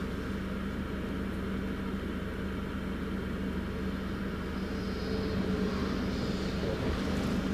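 A TUI airliner at Newcastle International Airport during Storm Amy, a steady broadband jet roar with wind noise that swells slightly toward the end.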